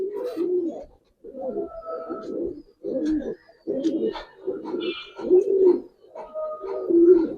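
Giribaz pigeons at a farm coo loudly and close after release, a series of deep rolling coos repeating in steady phrases with brief gaps, and faint higher chirps in between.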